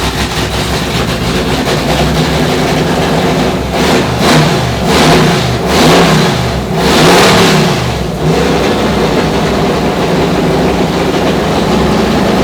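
A rebuilt Ford Bronco runs without its exhaust fitted, a loud close engine roar with several revving swells in the middle before settling back to a steady rumble.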